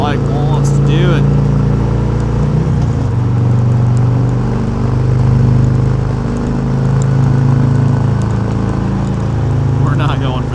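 A 2022 Harley-Davidson Ultra Limited cruises in 6th gear at about 70 mph and 3,000 RPM, its engine a steady, loud low drone mixed with wind rush while a rider talks over it.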